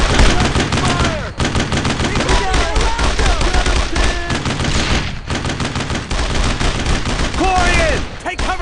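Gunfire from rifles and machine guns in the World War II shooter Brothers in Arms: Road to Hill 30 pounds in loud, dense bursts that barely pause, with shouted voices mixed into the battle.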